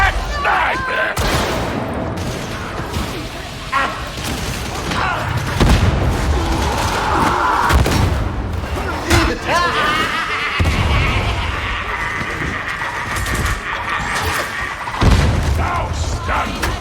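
In the Darktide video game, a frantic battle brings repeated booming grenade blasts and rattling gunfire close and loud, with characters shouting over the chaos.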